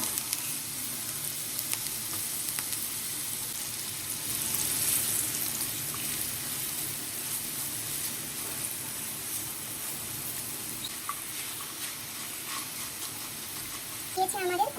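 Spice-coated okra, dusted with cumin powder, frying in hot oil for a crispy Bengali fry, a continuous dense sizzle with occasional stirring scrapes and light clinks, close and steady.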